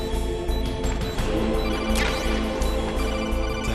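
A phone in Metal Gear Solid rings in repeated electronic bursts, loud and close, with game music and effects running beneath it and no voices.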